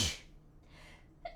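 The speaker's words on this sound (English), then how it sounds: "Then I'm gonna sneeze." A single person sneezes loudly and close by in a quiet indoor room, a sharp burst followed by softer breathy sounds and a brief faint sniff near the end.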